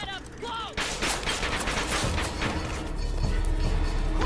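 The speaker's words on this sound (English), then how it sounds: "they're shooting from here" Enemies firing guns in Bioshock Infinite, a sudden loud crack followed by a dense run of rapid gunshots and impacts under a rumbling background, after a brief stretch of faint game sounds.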